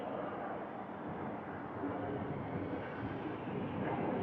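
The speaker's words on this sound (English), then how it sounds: "Airplane overhead. We are in a direct flight path." A jet airplane passes overhead along a direct flight path above a park, making a broad, faint, continuous roar that holds steady and swells slightly toward the end.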